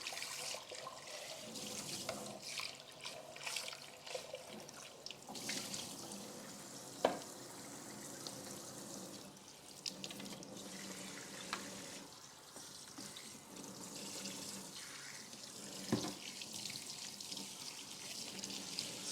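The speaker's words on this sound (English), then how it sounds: "I'm gonna clean the blender now because we're gonna make smoothies later." A blender is rinsed under a running kitchen tap, a faint continuous flow of water with occasional clinks and splashes against the jar.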